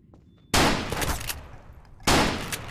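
Automatic turret gunfire in a Slums 2 mod video game, two loud sustained bursts of rapid fire, the second starting after a brief lull, with no talking.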